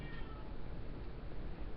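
A domestic cat meows outdoors in a short, fairly loud burst over a dense, noisy background, with no talking.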